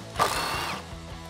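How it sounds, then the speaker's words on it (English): A ratchet works an 8mm bolt loose from the air box support on a 2011-2023 Dodge Challenger 5.7L, a short close mechanical burst followed by a few quick clicks. "Directly below our air box is an 8mm bolt holding it to the support. So let's get that off."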